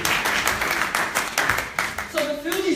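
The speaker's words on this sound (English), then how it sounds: "Please give yourselves a round of applause." Applause from an audience at a mental health awareness week event, a dense patter of clapping lasting throughout, with voices talking over it near the end.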